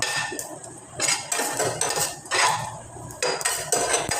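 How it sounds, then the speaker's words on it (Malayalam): Cinnamon and whole spices going into a pan on the stove to dry roast, heard as a run of metallic clinks, taps and scrapes against the pan at close range, with no talking. "അപ്പം ഞാനൊരു പാൻ എടുത്ത് അടുപ്പയിലോട്ട് വെച്ചിട്ടുണ്ട്. ഇനി നമുക്കിതൊന്ന് അതിലിട്ടൊന്ന് മൂപ്പിക്കണം."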